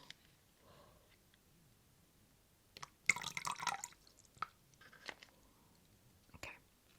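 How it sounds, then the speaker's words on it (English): Water overflowing from a freshly watered houseplant pot, dripping and trickling in a quiet indoor setting, with a close burst of splashy drips around the middle and a few scattered drops after. "Sorry, the water's overflowing."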